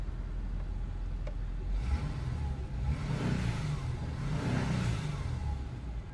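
A Subaru engine, just fitted with new coil packs after misfiring, cranks and fires up, settling into a steady idle that rises in a couple of soft revs, heard at moderate distance without talk.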